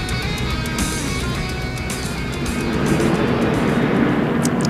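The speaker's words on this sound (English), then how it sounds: "Got one of the jet blowers up on the banking of 1 and 2, trying to blow all the oil dry off" A jet blower on the banking of turns 1 and 2 at Bristol racetrack roars steadily, blowing oil dry off the track surface, a loud sustained whooshing rumble that swells slightly toward the end.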